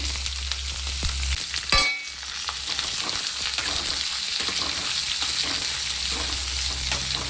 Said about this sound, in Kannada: 1/2 ಸ್ಪೂನಷ್ಟು ಸೋಂಪು ಕಾಳು ಹಾಕ್ತೀನಿ. ಸ್ವಲ್ಪ ಬೆಳ್ಳುಳ್ಳಿ ಹಾಕ್ತೀನಿ. ಸ್ವಲ್ಪ ಈರುಳ್ಳಿ ಹಾಕ್ತೀನಿ.